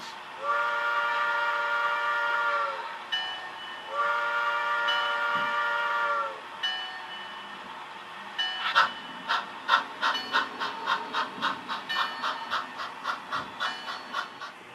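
A steam locomotive on the Arpree & Western Railroad at Catskill station blows two long, loud whistle blasts, then chuffs in a steady, quickening rhythm of puffs close by.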